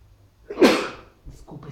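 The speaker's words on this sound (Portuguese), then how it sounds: "Desculpa espirrar" A single sharp sneeze bursts out abruptly indoors during a church youth Bible lesson. It is loud and brief, with faint room noise before it and a murmur of voice just after.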